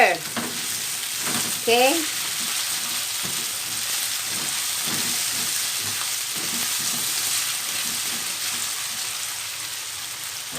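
Ground meat sizzles steadily in a frying pan for tortang giniling, with scraping stir strokes and a brief spoken word early on over the continuous crackle.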